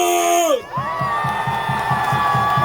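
Teenagers in a large outdoor rally crowd at Dongdaegu Station's Park Chung-hee Plaza roar a loud, sustained cheer. A shouted voice trails off into it, and steady rhythmic thumps pulse underneath.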